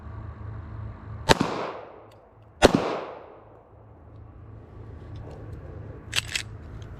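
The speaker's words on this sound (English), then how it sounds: "we're gonna shoot the Ruger 380 for the first time here" Ruger Security 380 pistol fired at targets, three sharp loud shots with ringing decay, the first two about a second apart and then a pause, followed by a closer pair of quieter reports.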